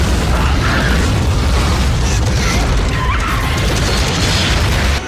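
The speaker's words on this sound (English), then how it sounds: "And more explosions." Loud, continuous booming explosions from the Starship Troopers 3 movie, with heavy low rumble and crashing debris filling the whole stretch without pause.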